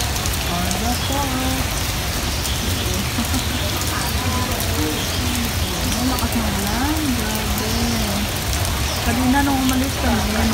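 Heavy rain pours steadily over a park, a dense, constant hiss of drops on surfaces that fills the whole stretch, with faint voices talking underneath.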